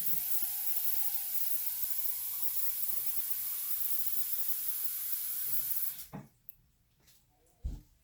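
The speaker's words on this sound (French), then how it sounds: "je vais remplir le bol avec de l'eau" Tap water runs steadily into a bowl, a broad continuous hiss that holds evenly for about six seconds, then cuts off, leaving a few faint clinks and a small knock afterward.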